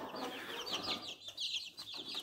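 Chickens, including roosters and hens, clucking in a coop alongside young rabbits, giving short repeated bursts of clucks in a quick uneven rhythm, close by and moderately quiet.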